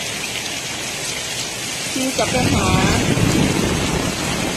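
Rain falls steadily outdoors as a constant hiss of drops on surfaces, with brief speech in the middle and the downpour growing slightly louder toward the end.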